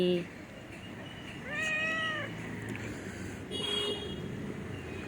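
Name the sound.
cat named Chingri meowing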